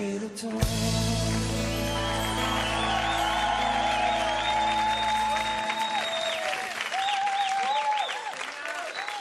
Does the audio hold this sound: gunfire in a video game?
no